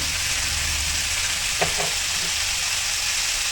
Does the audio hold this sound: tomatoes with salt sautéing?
yes